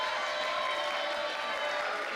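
A wrestling crowd roars steadily through an indoor independent show, a dense, loud wash of cheering and applause with no break and no single voice standing out.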